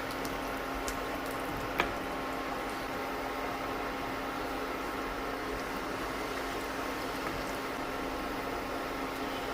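Rambutan curry gravy bubbling in a pan on the stove, a steady low simmering hiss with faint soft pops, heard alone without talk.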